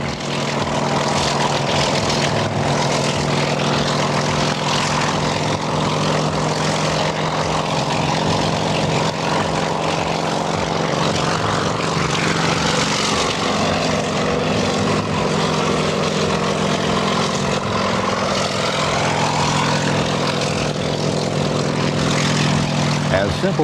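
A firefighting helicopter flies over water, a continuous loud rotor and engine drone holding steady throughout, thick and rumbling, with no gaps or change in distance.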